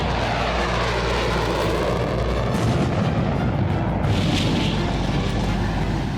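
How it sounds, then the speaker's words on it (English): Israeli Air Force jets roar through steep-angle dive bombing runs on a small target, a loud, continuous broadband rumble with heavy low booms and a rising surge midway. "They practice steep-angle dive bombing runs on a tiny target."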